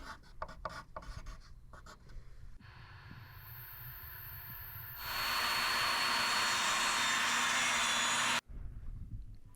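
A table saw rips a crown molding board down to width, the blade noise rising to a loud, steady high whine for several seconds before cutting off abruptly, with workshop clatter before and after.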